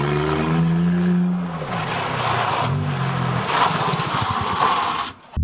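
A Smart car accelerates hard with its wheels spinning, the engine note rising and dipping as traction control, which stays active even with fuse 15 pulled, cuts in. Loud, close and continuous, with no talking.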